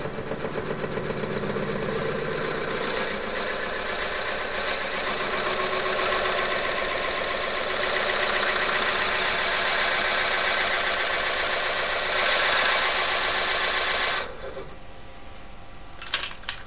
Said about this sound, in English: Now I'm going to drill down the inside to start clearing it out.